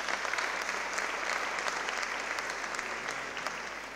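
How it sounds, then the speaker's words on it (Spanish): A church congregation applauds during a Spanish-language sermon, producing dense, sustained clapping that tapers off slightly toward the end. "Dale un aplauso al Rey"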